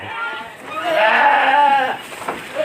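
Goats and sheep bleat at feeding time on a large goat and sheep farm in Rimbo Bujang, with a sustained wavering bleat rising near the middle, close and fairly loud, over soft background murmurs.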